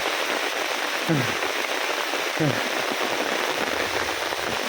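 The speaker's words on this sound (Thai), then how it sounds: "นี่ฝนตกหนักมากเลยนะ" Heavy rain pours steadily on a Thai mountain walk, a dense, even wash of drops that holds at the same level throughout, with two brief faint sweeps rising over it.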